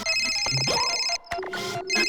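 Layered electronic ringtone tones play continuously for about two seconds, with a brief dropout in the middle, loud and close.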